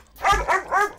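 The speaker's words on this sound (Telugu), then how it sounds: "అన్న ఎందుకన్నా మురుగుతోంది?" A dog barks three times in quick succession, close and fairly loud, with a low growly edge, in a comedy scene after being fed biscuits.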